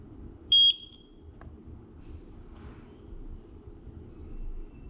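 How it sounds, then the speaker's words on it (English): A single short, high-pitched electronic beep from the setup button of a Eufy Indoor Cam 2K Pan and Tilt sounds near the start, clear over a low background hum, followed by quiet room noise. "When you click it, you're going to hear a beep."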